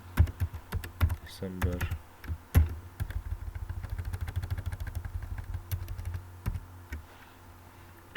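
Continuous clicking keystrokes of text being typed on a computer keyboard, steady and fairly close, with someone speaking briefly over the typing and a low engine-like hum underneath.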